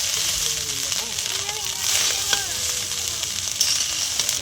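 Soybean and paneer fry in a pan with a continuous, fairly loud sizzle, while a spoon stirs and scrapes through it in short bursts. A voice talks faintly underneath.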